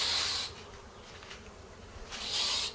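Wasps buzz close by in a loud burst that fades to quiet, then returns for a second swell near the end, with no voices.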